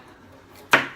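A single sharp knife chop through cilantro and onion on a cutting board, one crisp close strike after a quiet moment, in a home kitchen making Mexican tacos.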